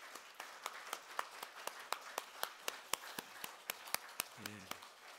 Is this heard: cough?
no